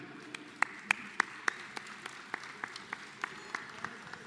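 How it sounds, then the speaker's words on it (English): A small crowd at an Easter beef cattle sale applauds, heard as a thin scattering of distinct claps at a fairly even pace that gradually grows softer, set against a quiet background. "Big round of applause there."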